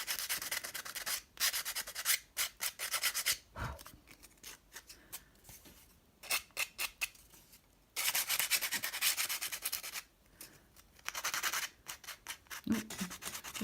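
Cork coaster corner being sanded by hand, a run of close, dry rubbing strokes in bursts separated by brief pauses, with a couple of quieter gaps between passes.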